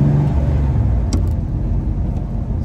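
Chevrolet Corvair with a torquey rear-mounted air-cooled flat-six engine heard from inside while driving behind an SUV, a loud steady low rumble and whir with a faint higher whine, continuous with no talk.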